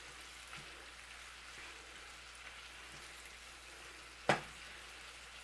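Lamb chops frying slowly over lower heat in a pan, giving a faint, steady sizzle with a soft crackle throughout and one sharp clink near the end.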